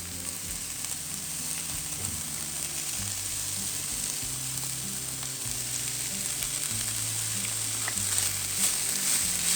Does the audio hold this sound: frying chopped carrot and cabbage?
yes